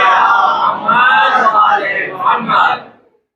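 A crowd at a majlis chants salawat loudly in unison, a sustained, full-throated collective cry lasting about three seconds before fading out.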